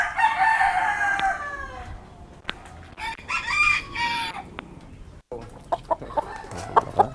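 Pet chickens at feeding time cluck and crow close by, with a rooster's drawn-out crow at the start followed by busy clucking and sharp pecking taps.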